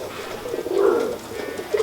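A pigeon coos softly twice, a low throaty burble, close by with no other sounds around.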